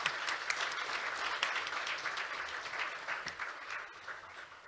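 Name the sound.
audience applause at a forum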